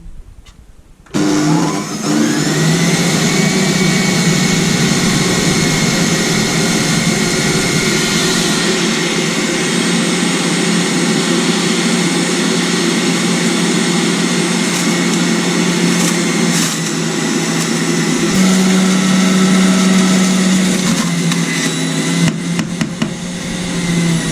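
A juicer grinding through about 10 litres of rinsed, drained stinging nettles runs loudly and steadily, a continuous whining motor drone that holds nearly unchanged from start to finish, with no voices over it.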